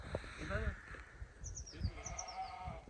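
Sheep bleating at a farm with fish ponds, several wavering bleats close by, some higher and fainter calls in between, mixed with someone talking.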